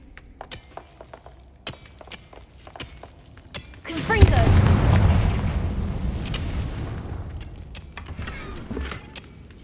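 A Confringo fire spell cast in the video game Hogwarts Legacy erupts as a loud, booming blast that swells suddenly and rumbles on for several seconds, following a stretch of quiet clicks and small effects.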